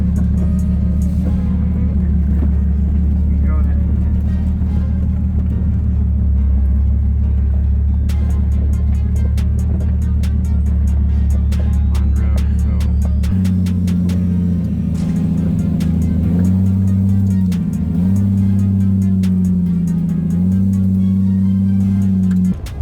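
Off-road vehicle grinding along a 2-diamond rated trail near Hot Springs, a steady loud engine drone that shifts pitch partway through, with revving swells and rattling over continuous rumble.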